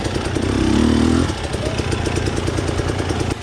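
A Husqvarna TE250i two-stroke dirt bike engine runs steadily up close, with a loud revving swell early on that settles into a rough, buzzing idle.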